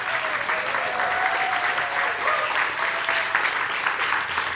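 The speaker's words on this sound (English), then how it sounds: "stand up, and give her the applause she deserves for all of the work" A church congregation applauds warmly for a choir member, the dense clapping steady and loud from start to finish with faint cheers mixed in.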